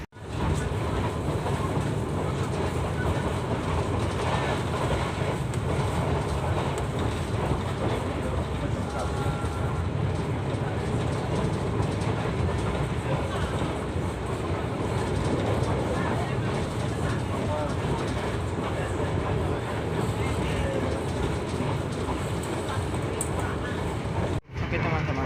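Steady rumble and rattle inside the Argo Merbabu passenger train in motion, a constant loud roar of wheels and carriage with wind noise that holds without a break until a sudden cut near the end.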